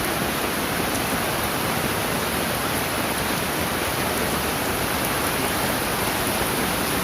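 Steady, dense rain falling without pause, a constant broadband hiss close and even throughout, with no voices.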